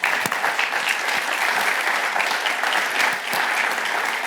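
Sustained audience applause at a wealth-tech industry conference, a dense, even clapping from a sizeable crowd that continues steadily throughout, loud and close.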